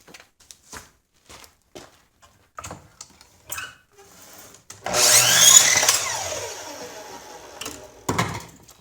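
A power saw cuts old reclaimed cedar boards down to length for a smokehouse build, rising to a loud whirring burst for about two seconds after scattered knocks and handling clatter, with a brief final bump afterward.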